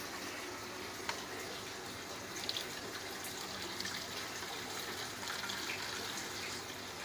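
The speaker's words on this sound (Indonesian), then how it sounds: "Jadi kita masukkan air 2 liter sini dulu." Roughly two liters of water poured into a container for a soil-fertility test with Nitrobacter, a steady broadband splashing and trickling that runs evenly throughout with no talk over it.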